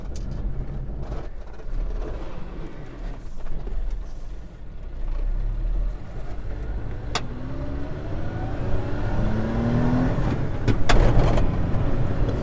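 A 1995 Suzuki 4x4 mini truck's engine drones steadily while driving, with road rumble, a few mechanical clicks and a rising whine toward the end.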